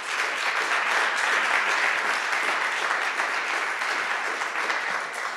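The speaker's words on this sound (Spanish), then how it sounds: "yo pido un aplauso para nuestras 4 compañeras" An audience at a talk on women, gastronomy and pleasure breaks into sustained applause, a dense even wash of many hands clapping that holds steady for several seconds without a pause.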